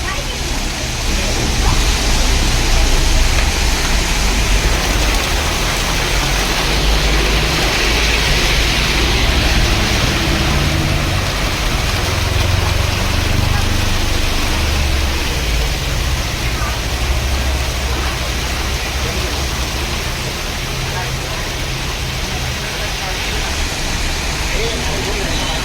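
Heavy rain and floodwater in Salem, Tamil Nadu make a loud, steady roar of pouring rain and rushing water that fills the whole stretch without a pause.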